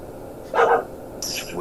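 A single short dog bark cuts through, fairly loud and close, followed by people talking.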